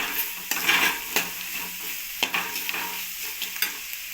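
A masala rice mixture stirred in a sizzling pan: close spoon scrapes and taps come every second or so over a continuous frying hiss.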